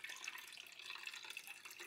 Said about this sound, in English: I'm going to add